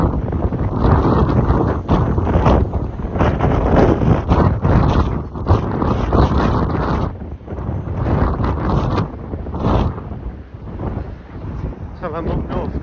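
Strong wind off the Irish Sea at Blackpool buffets the microphone in loud, continuous gusts, with no clear voices.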